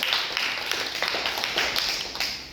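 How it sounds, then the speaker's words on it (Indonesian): A classroom group applauding a team's answer in a religion lesson, a burst of many hands clapping in quick irregular rhythm, close and fairly loud throughout. "Mari kita tepuk tangan sekali lagi untuk jawaban dari kelompok"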